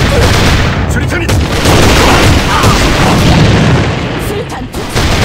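A grenade blast in the online shooter game A.V.A, with heavy roaring booms and gunfire that fill the whole stretch loudly and without pause, while voices call out underneath.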